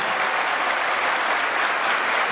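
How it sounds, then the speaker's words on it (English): A college-day audience claps together in a dense, steady burst of applause that fills the whole short stretch, loud and even with no voices over it. "clap once again. Clap!"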